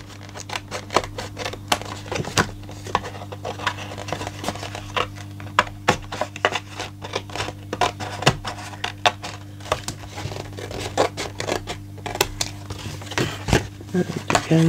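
Scissors snip off paper bits for a junk journal cover, producing many short, sharp clicks and cuts in an irregular rhythm over a steady low hum, close and moderately loud.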